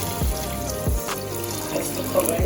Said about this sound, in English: I'm just going to put some water just to cover the meat.